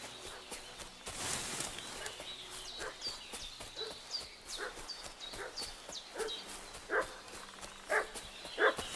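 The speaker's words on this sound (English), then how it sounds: "What's that dog making such a fuss about?" In the video game Kingdom Come: Deliverance II, a dog barks in scattered bursts at a moderate distance, growing louder and more frequent toward the end, with a few faint background sounds.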